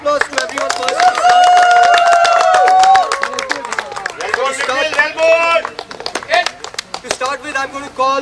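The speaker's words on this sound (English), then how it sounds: "So let's give a round of applause to everyone first." A round of applause at a celebrity cricket league presentation, India versus Pakistan: dense clapping from a crowd continues throughout, with loud voices calling and cheering over it.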